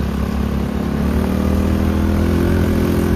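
A Bullet motorcycle engine runs close and loud, a steady thumping idle with a mechanical clatter, and no one speaks.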